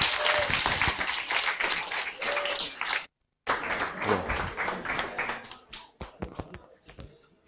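Audience applause at a German lecture event on compulsory internships, brisk and fairly close, breaking off briefly, then resuming more sparsely and fading into scattered claps and shuffling.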